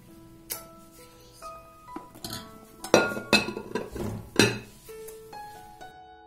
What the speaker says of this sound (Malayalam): ഇനി നമുക്കിത് ബാറ്ററിലേക്ക് ഇട്ടിട്ട് വെറുതെ ഒന്ന് ഇളക്കി കൊടുത്താൽ മതി